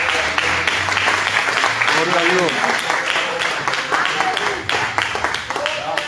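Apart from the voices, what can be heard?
audience applause in church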